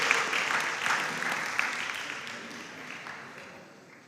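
Applause for new contestants at a school quiz competition, a moderate, fairly distant spatter of clapping that gradually dies away.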